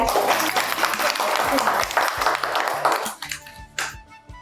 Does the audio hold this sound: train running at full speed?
no